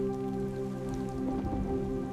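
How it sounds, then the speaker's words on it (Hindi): Heavy rain pouring down in a dense, continuous hiss of drops striking surfaces, steady and close throughout, with no voices. "घनघोर वर्षा होने लगती है।"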